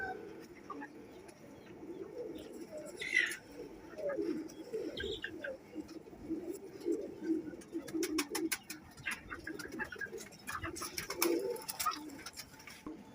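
Pigeons coo in soft, repeated low throaty phrases at moderate distance, with occasional brief chirps and wing or scuffling sounds mixed in, and no voices.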